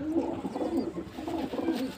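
Domestic pigeons, including a Jiriya breed bird, coo at a home loft in a steady run of low, throaty, overlapping coos close by, with no voices.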